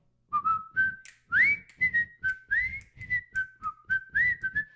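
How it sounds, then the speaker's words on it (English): A person whistles a short melodic phrase of about a dozen distinct notes, rising and falling in a lively rhythm, close and clear with soft keyboard tones underneath. "I like to whistle."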